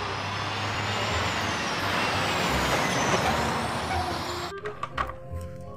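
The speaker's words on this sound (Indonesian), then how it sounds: "Yang ini mobil kontainer teman-teman, mobil Kenworth Amerika." An American Kenworth container truck rumbles along loudly and steadily, then releases a sharp hiss of air brakes before clanking and settling near the end.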